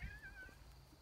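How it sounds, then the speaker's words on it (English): A domestic cat gives one short, clear meow at the very start, close by, with an outdoor garden setting among potted container fig trees and quiet background afterward. "This is my cat Ricky, who's very vocal sometimes"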